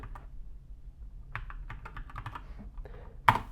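Fingers type on a computer keyboard in a quiet room, light key clicks in a few short bursts and then one sharper final keystroke.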